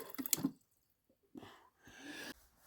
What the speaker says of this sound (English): and now it does dispense water